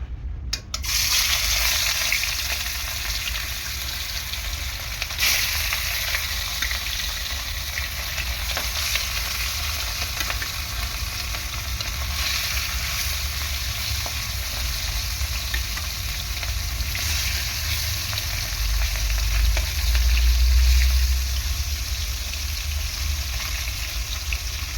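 Pieces of rui fish frying in hot oil, a continuous dense sizzle with occasional louder crackling swells, close and steady throughout with no speech.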